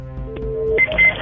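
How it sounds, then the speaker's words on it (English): A 911 emergency call from a house fire opens with a recording of a telephone being dialed, a short run of touch-tone beeps over a line hum, loud and close. "the last recorded phone call from the house was this 911 call"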